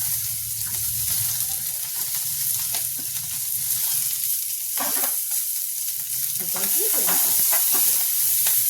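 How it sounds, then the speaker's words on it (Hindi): Chopped vegetables frying in a pan on a gas stove, a steady loud sizzle with stirring scrapes and bursts of spitting near the end, no voices. "इसके बाद डालेंगे अपनी सारी सब्जियां।"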